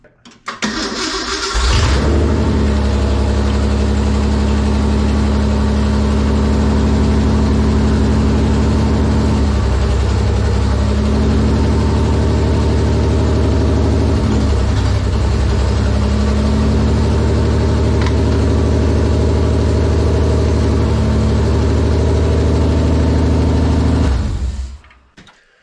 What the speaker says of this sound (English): every time I'd spray the ether down around the bottom of this plenum, it would immediately drop the idle and run a little bit rougher